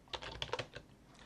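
Commands typed on a computer keyboard while setting up a Linux system in a VirtualBox virtual machine; a quick burst of several close, crisp keystrokes in an uneven rhythm, then trailing off into quiet.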